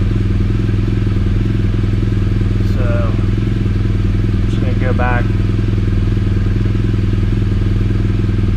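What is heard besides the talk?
2016 BMW R1200GSA motorcycle engine running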